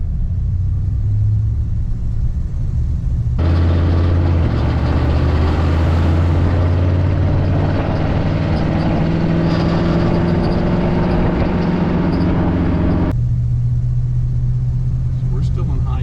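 A 1956 Packard with an automatic transmission cruises in high gear, its engine a steady low rumble heard from inside the cabin, with a clear change in tone midway and a person talking over it.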